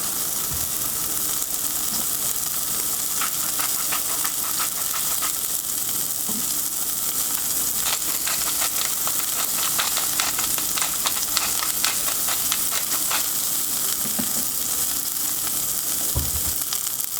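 Pork browning untouched in a hot pan for lo mein, giving a steady, close sizzle and crackle with scattered pops throughout, no voices.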